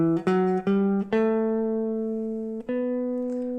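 Single guitar notes climb the B Phrygian scale, each plucked and left ringing, with the last few held longer. A clean, close tone, played solo.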